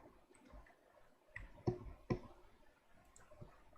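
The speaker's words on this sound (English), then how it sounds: "let me type my password here." A password is typed on a computer keyboard in a few faint, sparse key clicks, quiet and close with pauses between presses.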